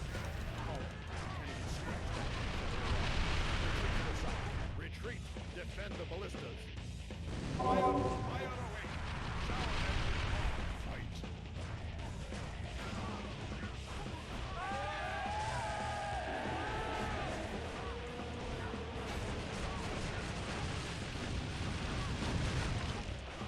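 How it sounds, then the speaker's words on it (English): Double mortar crew firing at a mammoth in the PC game Kingdom Under Fire: The Crusaders, with heavy booming blasts and crashing impacts mixed into dense game audio and music, some louder swells midway. "We're going to use our double mortar crew to take that out"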